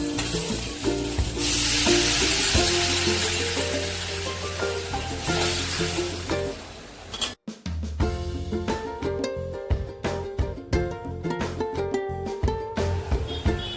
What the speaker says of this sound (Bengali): এবার অ্যাড করব পরিমাণ মতো জল।